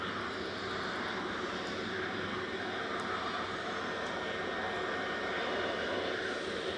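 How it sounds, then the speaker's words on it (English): Ryanair jet arriving from Alicante as flight 2071 at Manchester Airport, a constant distant engine roar with faint higher whine, steady in level throughout, no talking. "Next in will be Ryanair from Alicante EIIHY,"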